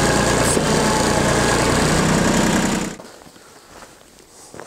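A 1989 Yanmar tractor engine idles loud and close in cold weather around minus four degrees, a steady rumbling drone that cuts off abruptly near the three-second mark, leaving quiet room tone.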